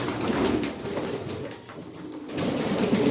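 Pigeons coo in soft, low, rolling calls that rise and fade over a few seconds, close and fairly loud, with no one speaking.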